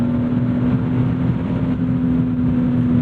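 A 1997 BMW E36 M3 sedan with a manual swap makes a loud, close, steady engine drone that holds an even pitch without a clear rise or fall, with no voices.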